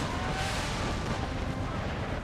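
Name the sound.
artillery fire in Empire: Total War mod Brothers vs. Brothers video game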